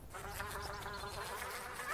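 Bees in modded Minecraft give a close, continuous insect buzz with a wavering drone, loud and steady for the full two seconds, with no talking.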